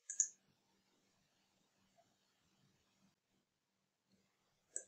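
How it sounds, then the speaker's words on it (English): Computer mouse clicks on a software button in an image analysis program, two crisp isolated clicks, one at the start and one at the end, with near silence and faint background between them. "I just click the count button and the cells are found."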